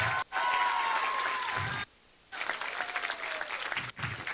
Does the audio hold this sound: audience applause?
yes